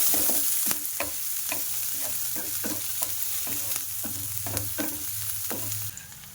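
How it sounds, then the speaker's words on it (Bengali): Chopped onion and green chili fry in mustard oil in a pan, a steady close sizzle broken by regular scraping strokes of a spatula stirring, roughly every half second. "একটু হালকা লাল লাল করে ভাজা করে নেব।"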